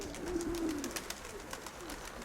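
A pigeon gives a soft, low coo, close by, against light background noise.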